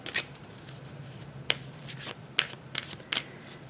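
Angel Answers oracle cards being shuffled by hand, producing several short, crisp riffles and snaps spaced out over quiet room tone, close and fairly soft.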